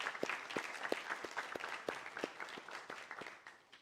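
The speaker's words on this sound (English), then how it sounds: "can we give them a round of applause?" A university event audience applauds for students at a civil engineering IP showdown, steady clapping from a crowd in a hall continuing throughout, loud and sustained.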